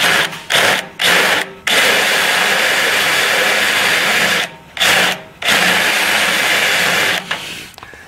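A drill fitted with a cutter bores out a flange in a garage, giving a loud, steady high whine in several sustained bursts separated by short pauses.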